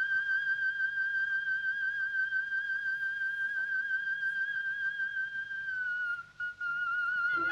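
A very high, thin sustained tone held steadily like a pure whistle, a soprano singing in the whistle register, dipping slightly at the end.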